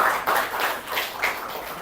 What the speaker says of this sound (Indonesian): Tepuk tangan lagi dong buat teman-teman semuanya